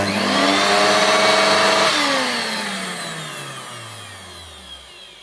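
A refurbished Hoover Turbomaster U5094 upright vacuum cleaner runs with a steady whine, then is switched off and winds down smoothly, its motor pitch falling over several seconds until it fades out.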